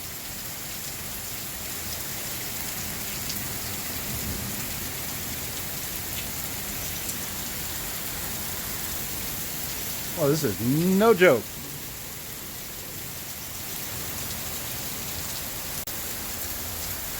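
Heavy rain pours down in Des Moines, Iowa, a steady dense roar heard close by, and someone speaks briefly partway through.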